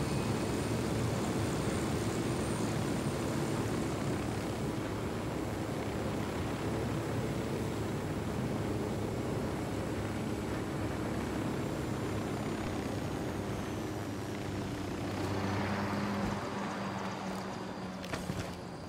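Aircraft in Ghost Recon Wildlands, a steady droning engine and rotor roar, loud and close, holding constant throughout with no talk over it.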